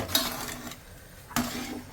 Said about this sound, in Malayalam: മൂടി നമുക്ക് തുറന്നിട്ട് അവിടെ താഴെ വെച്ചു കൊടുക്കാം